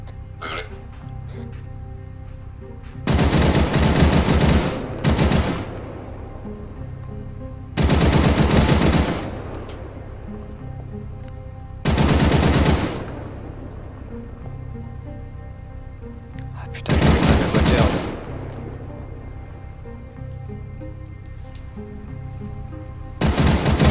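In Arma 3, bursts of rapid automatic gunfire, five separate volleys each lasting about a second or two, over a low steady engine rumble of a French Army vehicle.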